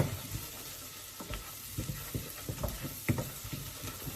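Onions frying with curry powder in a pan for a sweet potato and coconut soup, a continuous soft sizzle with a spoon stirring and scraping in irregular taps, close by.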